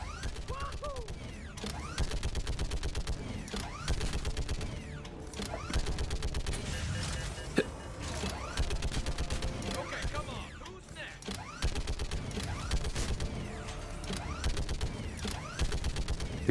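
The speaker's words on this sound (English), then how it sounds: "This little turret sounds nice and beefy." Turret fire in the Mass Effect 3 video game rattles in rapid, continuous mechanical bursts, steady and fairly loud throughout.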